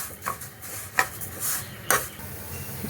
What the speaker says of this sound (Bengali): পটপট করে আওয়াজ হচ্ছে, তার মানে হয়ে গেছে ভাজাটা।